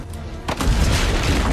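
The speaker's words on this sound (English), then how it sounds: "Use the cannons above the rampart." Cannon fire on a rampart in the video game Assassin's Creed II booms loudly, with a deep rumbling blast that fills the clip and sustains after the initial hit.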